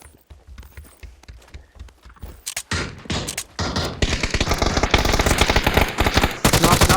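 Bursts of automatic gunfire in the battle royale game PUBG, starting as scattered faint shots and building into loud, rapid sustained volleys.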